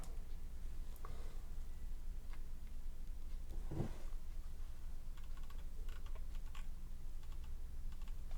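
A computer keyboard gives a few faint, sparse keystrokes set against a steady background hiss, with one louder tap near the middle.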